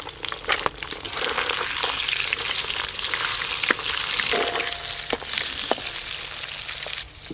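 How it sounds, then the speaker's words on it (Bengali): Hilsa fish roe fries in hot mustard oil over a clay stove, a loud, continuous close-up sizzle with scattered crackles and pops and occasional scraping of a spoon. "গরম তেলে ইলিশ মাছের ডিমগুলো দিয়ে দেব"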